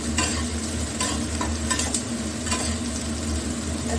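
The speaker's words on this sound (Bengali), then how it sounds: "পেঁয়াজ দিয়ে দেবে, দিয়ে পেঁয়াজটা একটু নাড়াচাড়া করবে।" Onions fry in a hot pan while a utensil stirs and scrapes them, giving a close, steady sizzle broken by rhythmic scraping strokes and no voices.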